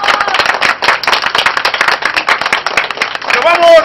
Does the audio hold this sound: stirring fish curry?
no